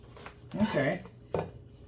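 A utensil stirs vegetables in a pot of beef chipotle veggie soup, making two distinct metallic clinks and scrapes against the pot over a quiet background.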